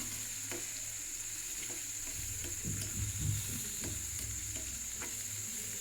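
Onion stalks sizzle steadily in a pan while a utensil stirs them, with occasional scraping clicks against the metal.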